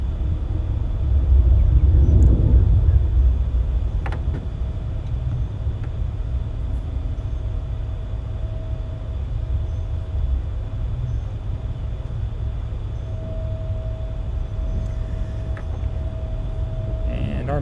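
Aircraft taking off from a runway at Charlotte Douglas Airport, a steady broad low rumble with a long thin tone running across the middle, loudest early and then holding at an even distant roar.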